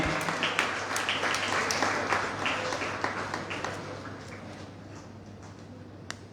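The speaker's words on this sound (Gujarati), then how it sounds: "તાળીઓથી વધાવીએ લઈને." An audience at a library award ceremony for young speakers applauds at length, a dense, even patter of many hands that starts strong and slowly thins out and fades toward the end.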